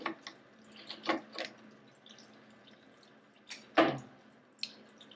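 Coolant draining from a Jeep CJ7 engine, faint irregular drips and splashes, with a few brief louder liquid spatters and long quiet stretches between them.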